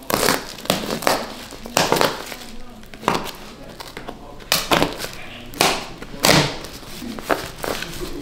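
A taped-up beanie package is ripped open in repeated crinkling, crushing bursts with a few thumps, close and loud, while people talk nearby throughout.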